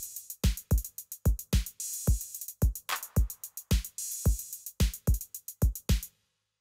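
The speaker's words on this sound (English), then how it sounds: "So the drum track by itself sounds like this." A punchy drum break track plays alone in Ableton, with sharp kicks and snares in a syncopated rhythm and crisp hi-hat ticks between them, loud and close for about six seconds.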